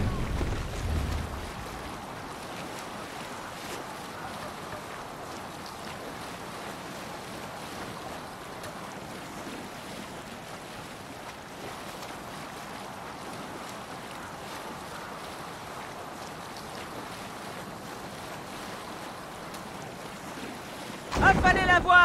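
A sailing ship in Assassin's Creed Valhalla moves across open water, with a faint, steady wash of wind and waves that swells briefly at the start and end.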